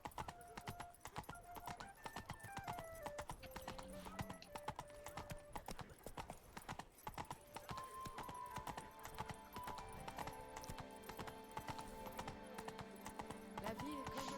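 Horse hooves clip-clopping in The Witcher 3 game, a steady rapid trot over a quiet musical bed with occasional talking.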